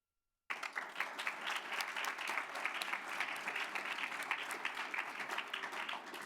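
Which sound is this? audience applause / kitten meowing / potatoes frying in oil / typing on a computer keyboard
audience applause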